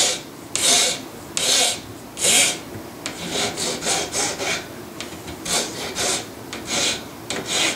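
A gun part is worked with a hand file with teeth on its edge, sounding as a series of close, gritty rasping strokes in a steady back-and-forth rhythm, some longer and louder than others.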